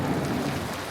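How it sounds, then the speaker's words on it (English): Heavy rain pours steadily at Hafren Forest, a dense, loud continuous hiss and patter drumming close by, heard from inside a car with the door slightly open, no voices. "you can probably hear the rain"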